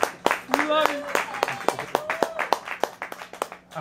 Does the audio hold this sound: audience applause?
yes